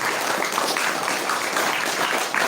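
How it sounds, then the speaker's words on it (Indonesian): Audience applause at an Indonesian leadership training session, a steady dense wash of clapping lasting the whole stretch, fairly close and even in loudness with no voices over it. "Tepuk tangan buat kita semua."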